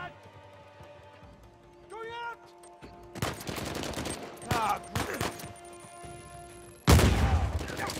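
Gunfire in the video game Uncharted 4 A Thief's End: several bursts of rapid shots, a loud volley near the end, with a voice talking over some of it.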